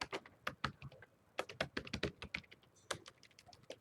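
Keys clatter on a computer keyboard as C++ code is typed, irregular bursts of close, crisp clicks with short pauses between them, no voices.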